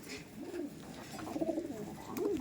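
Giribaz pigeons coo in soft, repeated low rolling phrases, three or four swelling calls close by over a steady faint background, with no voices.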